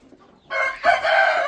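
Brief quiet, then chickens let out onto grass burst into loud, close crowing and clucking that continues to the end.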